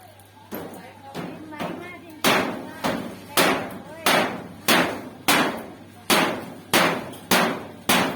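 Nails are driven with a hammer in a series of about a dozen sharp, loud strikes at a steady rhythm, close by, with voices talking between and over the blows.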